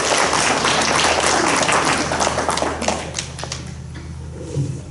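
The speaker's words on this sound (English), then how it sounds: "I'd like us to just give him a round of applause." An audience applauds outgoing president Lonnie Wheelan in a dense, loud burst of clapping that thins out and fades over the last couple of seconds.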